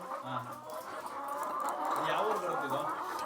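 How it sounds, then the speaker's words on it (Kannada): BV380 chickens clucking on a poultry farm in Davangere taluk, a steady mix of overlapping clucks and calls from many birds close by, continuous throughout with no talk. "ಇನ್ನೂರು ಕೋಳಿ ಸರ್ ಇದು ಮಹಾರಾಷ್ಟ್ರದಿಂದ ಕಳಿಸಿದ್ದಾರೆ"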